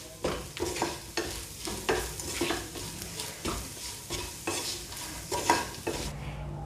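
Egg fry with garam masala gets stirred in a pan: a series of rhythmic spatula scrapes and taps about every half second over a soft sizzle, close by, ending abruptly without talk.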